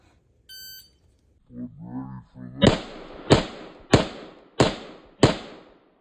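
Five loud gunshots from a pistol firing 147 grain ammunition crack out at roughly even intervals, each with a short decaying tail, after a brief beep and some muffled talk.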